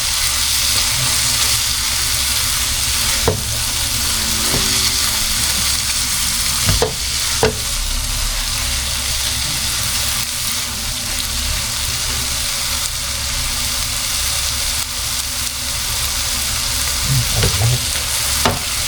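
Spice paste for pepes tahu sautéing in a pan, with a loud, steady, close sizzle throughout and a few sharp utensil knocks and scrapes scattered over it, no talk.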